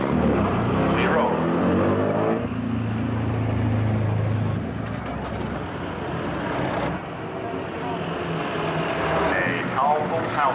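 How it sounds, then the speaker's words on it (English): Vintage Daimler and Bentley cars at a 1990 motoring festival in Bexhill drive past one after another, engines rumbling and swelling as each nears and then fading, with an announcer talking over them. "The cars are rolling. The Daimler and the Bentley coming your way"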